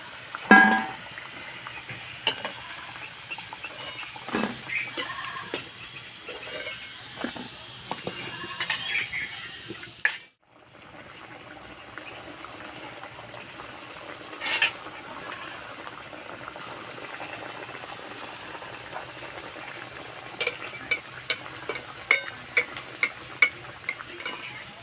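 Cauliflower-stuffed kachori deep-frying in oil over low heat, giving a steady soft bubbling sizzle with a brief quiet break midway, then light clicks and stirs near the end; no talking.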